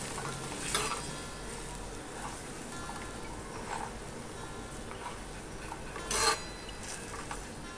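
A pot of spicy mackerel fish curry masala simmers toward a boil with a soft, steady bubbling sizzle, faint and continuous, broken by a couple of brief louder pops.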